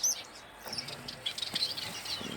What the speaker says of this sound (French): Mes jeunes padas aussi qui grandissent super bien.